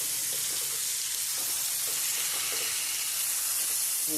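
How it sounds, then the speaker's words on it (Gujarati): Okra frying in hot oil gives a steady, loud, dense sizzle that runs unbroken throughout, close up with no speech. "ભીંડો આપણો છે ને અસલ તેલમાં આપણે તળી નાખીશું"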